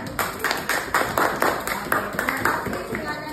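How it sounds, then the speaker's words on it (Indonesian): Classroom applause for a presenting student group, a short burst of rhythmic claps from a small crowd, close and moderately loud, with voices mixed in. "Tepuk tangan buat kelompok 5."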